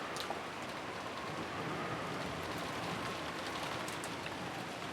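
Steady, dense rainfall hisses throughout in the visual novel game Umineko, a constant wash of falling rain with scattered faint drips and no voices.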